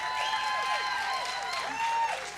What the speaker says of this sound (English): Let's have a round of applause for our lobstermen.